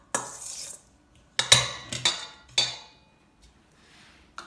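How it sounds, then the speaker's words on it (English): Spoon mixing beetroot slices with dressing in a bowl, several sharp clinks and scrapes against the dish in irregular bursts, followed by a soft, faint stir. "I'm going to use a spoon to just mix everything together, like so."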